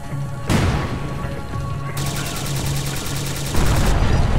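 A grenade blast in Syphon Filter: Logan's Shadow goes off with a sudden loud boom, then a sustained crackling rumble and a second burst of explosive noise near the end.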